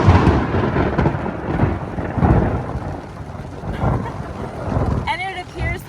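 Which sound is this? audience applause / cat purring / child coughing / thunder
thunder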